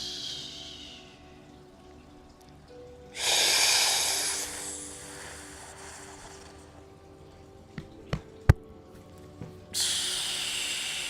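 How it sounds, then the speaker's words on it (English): A loud, breathy diaphragmatic inhale followed by a long, steady controlled exhale, with a few sharp taps near the end and another strong breath starting. "so you are exhaling in the opposite order as you're inhaling"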